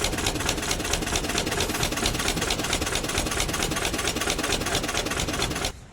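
A boat engine runs steadily for about six seconds, a loud, continuous close-up drone with a fast, even throb, and it drops off abruptly at the very end.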